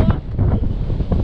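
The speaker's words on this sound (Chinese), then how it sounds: "哇，这风。 风很大。 对，风超级大。" Strong gusts roar against the microphone on a small mountain slope in Guizhou before sunrise, a steady low buffeting rumble with no voices.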